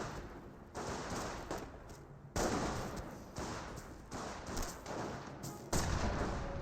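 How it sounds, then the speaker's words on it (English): Gunfire in a Company of Heroes battle, US forces against Panzer Elite, with a sniper rifle shot among dense, continuous bursts of shooting that surge loudly at intervals. "Sniper does get another good shot there."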